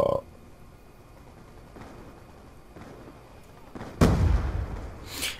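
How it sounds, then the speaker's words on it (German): An explosion in Call of Duty Black Ops II, a sudden loud booming blast near the end after quiet game ambience with a few muffled thuds, followed by a sharp burst. "Da ist was explodiert."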